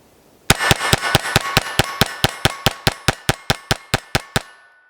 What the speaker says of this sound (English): we're going to start running 20 through the Sig P322